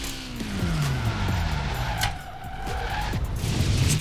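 Tires skid and squeal through a handbrake drift in Forza Horizon 4, a continuous loud screech with engine drone running the full length, swelling and easing as the car slides.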